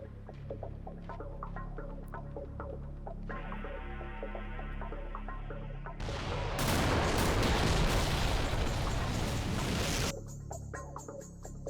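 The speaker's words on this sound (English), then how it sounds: "watch as the beginning artillery strike hits the Syrian troops defending it" Artillery and rocket strike on Syrian troops defending a compound in a war video game: a low steady hum, then a loud dense roar of explosions and gunfire for about four seconds before it cuts back to quieter tones.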